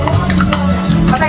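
Boiled pork ears for sisig fry in splattering oil, a loud, dense crackle close by with stirring clatter for a brief moment.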